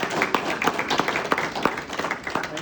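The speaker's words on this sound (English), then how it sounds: "So please give him a round of applause." Audience at a town hall meeting in Post Falls, Idaho, clapping in a modest round of applause, with individual claps standing out sharply and unevenly through the whole stretch, no speech over it.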